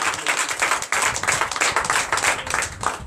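A church congregation at a Sunday service in Comé, Benin claps and acclaims Jesus, a loud, rhythmic run of claps in steady pulses with crowd voices mixed in.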